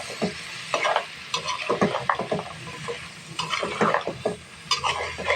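Jackfruit seeds sautéed in a pan with potato make a close, sizzling hiss cut by repeated scrapes and clacks of a spatula stirring them briskly.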